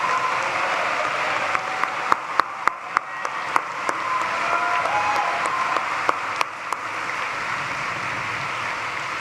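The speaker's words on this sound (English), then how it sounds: "please now give a round of applause to our faculty who are here and thank them" Large commencement crowd in an arena giving a sustained round of applause for the faculty, a dense continuous clapping wash with a few sharper nearby claps standing out.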